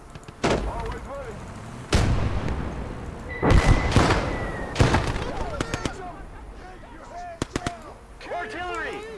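Heavy artillery blasts from a Kelly's Heroes battle game, several loud booming impacts scattered across the stretch with a burst of rapid firing in the middle, and a voice shouting over the barrage.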